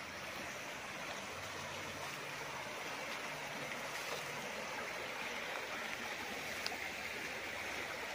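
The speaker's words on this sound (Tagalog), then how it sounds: "At tuloy-tuloy po ang agos niyan." A stream runs continuously across a farm lot in Liliw, Laguna, giving a steady, even rush of water at a moderate distance and unbroken throughout, with no voices.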